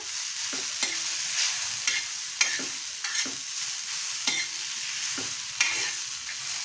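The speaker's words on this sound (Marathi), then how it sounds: "आपल्याला मिरची शेंगदाणे आणि लसूण छानपैकी असं भाजून घ्यायचं आहे" Green chillies, peanuts and garlic roasting in a pan over a low flame make a soft, continuous sizzle, broken by repeated scraping stirs of a spoon, with no talking.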